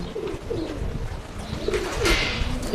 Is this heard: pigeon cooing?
yes